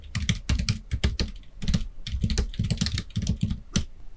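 Text typed on a computer keyboard while writing in a Korean word-processor document: rapid, close keystrokes in uneven clusters with brief pauses, heard alone.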